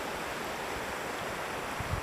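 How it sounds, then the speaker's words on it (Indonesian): River water flows steadily about twenty feet below, a continuous soft rushing wash at moderate level with no voices over it. "Tengok keadaan di sini sebenarnya. Nih sungai."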